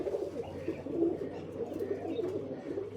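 Pigeons coo in low, soft, continuous rolling calls, heard close and steady with no talk.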